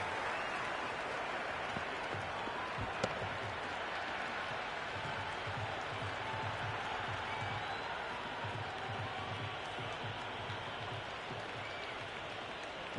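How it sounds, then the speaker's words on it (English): A steady, dense stadium crowd roar from a cricket video game, an ODI match between India and Australia, holding at an even level throughout with a faint pulsing swell and no clear spoken words. "The crowd is electric right now."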